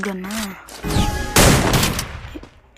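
A voice speaks briefly, then a loud burst of rapid synthetic video game gunfire erupts and fades away over a couple of seconds.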